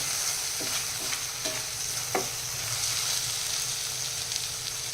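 Kadhai paneer masala fries in a pan with a constant close sizzle, broken by light scraping and clicking from a spoon as it is stirred.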